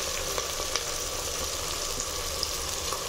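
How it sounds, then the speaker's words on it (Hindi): Onions and tomatoes for a chicken curry frying in a pan, a dense, steady sizzle that stays loud and unbroken throughout, with a few faint pops and ticks. "प्याज टमाटर हमारा अच्छे से भून गया है।"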